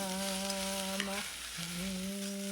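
Drumstick leaves and other ingredients for millet noodles fry and are stirred in oil, a constant sizzling hiss under a voice singing a sustained melody.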